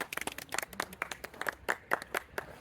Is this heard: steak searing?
no